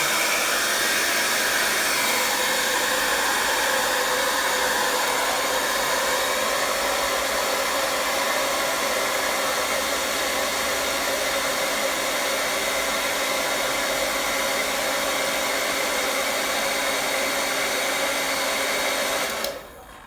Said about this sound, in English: Now I think I have to use my hair dryer just to dry it everything quickly.